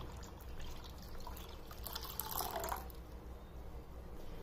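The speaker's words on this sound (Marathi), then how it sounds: "आता राहिलेलं अर्धा लिटर पाणी सुद्धा मी यात टाकून देते" Half a litre of water poured into a mango pulp mixture for homemade mango frooti, a soft, faint splashing trickle that swells briefly in the middle over a low background hum.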